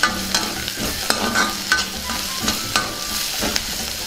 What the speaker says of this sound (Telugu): కొద్దిగా పసుపు వేసుకుందాం దీన్ని కూడా బాగా కలుపుకుందాం